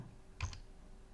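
A single key is pressed on a computer keyboard, producing one faint, brief click in an otherwise quiet room.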